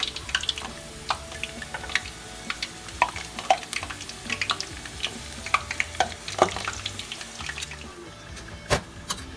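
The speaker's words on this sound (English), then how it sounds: "Once your cooking oil is hot and ready, you want to go ahead and start placing them separately inside the cooking oil" Egg rolls stuffed with Philly cheesesteak ground beef filling fry in hot cooking oil, giving a steady bubbling hiss broken by scattered clicks and taps. Nobody speaks.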